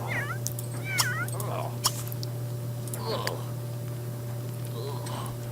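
A cat meows in The Sims 3, with a few short, curling meows over a steady low game hum and faint background sounds.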